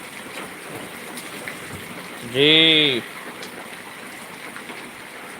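Heavy rain pours down in a village as a steady, hissing wash, with a brief spoken word cutting in partway through.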